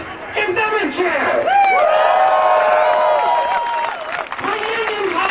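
Crowd at a Gaza Palestine solidarity rally in Auckland cheering and whooping loudly, with applause and high shouts layered together, sustained for several seconds before easing slightly.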